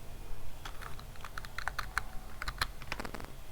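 Fingers type on a computer keyboard while writing Python browser-automation code, a quick irregular patter of soft key clicks, close and fairly quiet, with no talk.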